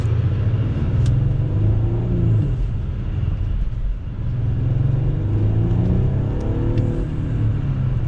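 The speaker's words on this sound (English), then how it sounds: "That's a nice little growl from the engine." Audi SQ5 Sportback engine growling under acceleration from inside the cabin, a steady low rumble that rises and swells in two long pulls over several seconds, with no talking.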